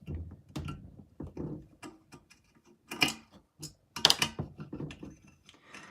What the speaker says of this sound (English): I have to take all these screws out